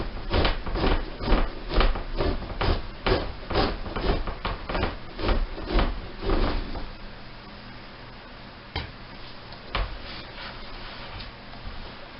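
A blade scrapes tissue off a small wolf skin in a rapid run of rhythmic, evenly spaced strokes for about six seconds, then slows to a few isolated scrapes against quieter background, with no talking.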